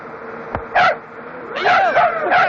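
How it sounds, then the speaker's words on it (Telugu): A dog in a comedy film scene gives a short yip, then a run of high, whiny barks and yelps close by, repeating in quick bursts. "కుక్క అదేం చేయదు, మూతి నాకుతుంది అంతే."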